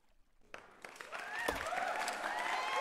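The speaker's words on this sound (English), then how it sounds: "play the clapping noise" A clapping sound effect plays on a stream, starting from quiet, swelling into dense applause mixed with faint cheers and whistles.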